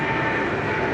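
Aircraft engine roar from a plane departing Sydney Airport bound for Bangkok, a steady broadband rumble held at constant loudness through the whole moment, fairly close and with no voices over it.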